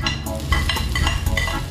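Sliced onion frying in a pan with a golden-browned ingredient, a steady close sizzle with a few stirring scrapes and clinks throughout, no voices.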